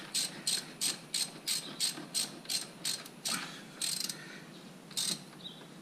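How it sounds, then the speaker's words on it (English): Spanner ratcheting on bolts of a Toyota Tazz 2E engine, a steady run of close, crisp clicking bursts in quick rhythm, then a few slower, separated clicks, with no talk. "then we'll use our spanner to tighten them up"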